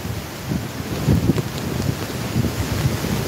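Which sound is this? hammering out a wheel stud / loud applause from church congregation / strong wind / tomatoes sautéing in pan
strong wind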